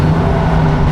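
A Subaru Forester boxer engine fitted with a new aftermarket exhaust gives a loud, steady, close-up drone with a deep low rumble, running without pause.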